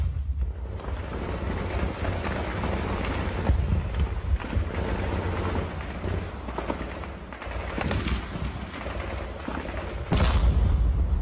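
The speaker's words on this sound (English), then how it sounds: "This has to be the most intense firefight we've ever seen unfold on film, just by the sound of it alone." An intense firefight in the Ukraine war, with dense, continuous gunfire and automatic bursts punctuated by loud explosions and booms, sustained and near throughout.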